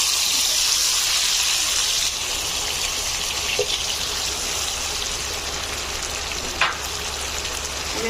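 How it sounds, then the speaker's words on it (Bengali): Beef deep fries in oil over a medium flame, giving a steady hiss and crackle that shifts slightly partway through, with a few sharp pops and clinks. "এখন আমি মাংসগুলোকে একটু ডিপ ফ্রাই করব। এখন আমি মাংসগুলো দিয়ে দিচ্ছি।"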